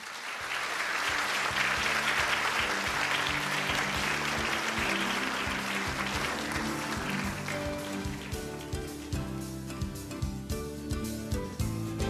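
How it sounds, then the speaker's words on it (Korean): Warm applause from the audience at the 44th Day of Persons with Disabilities ceremony, loud and sustained clapping that thins into scattered claps while music with a low beat continues underneath. "다시 한번 뜨거운 박수 부탁드립니다."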